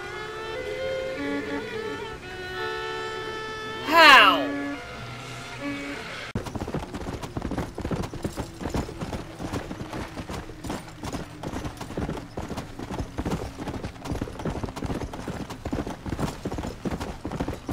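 Rhythmic hoofbeats of a horse galloping at a steady pace in Red Dead Redemption: Undead Nightmare, preceded by a brief whinny and musical tones.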